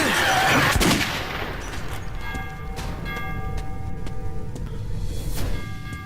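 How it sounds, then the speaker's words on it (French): Close, loud gunfire in Metro 2033 opens with a dense burst, then rattles on in rapid repeated shots under a ringing metallic background. "Continue à tirer."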